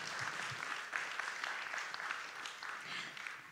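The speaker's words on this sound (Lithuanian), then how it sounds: "Ir taip žinoma, plojimai jūsų." An audience clapping at a culture centre dance competition, a steady, moderately loud wash of many hands that continues without a break.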